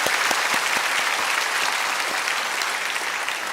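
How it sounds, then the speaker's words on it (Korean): Church congregation giving a big round of applause for volunteers during a Korean sermon, a thick, even wash of clapping from a large crowd, sustained and loud from start to finish. "이리저리 수고하시는 우리 봉사자들 한번 큰 박수로 격려해 주시면 감사하겠습니다."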